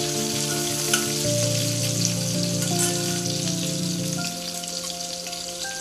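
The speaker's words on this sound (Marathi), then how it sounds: "मिरची थोडीशी कलसवून देऊयात।" Green chilies frying in a pan for paneer bhurji, a constant bright sizzle close up with a few soft pops and stirs, a low steady hum running beneath that drops away near the end.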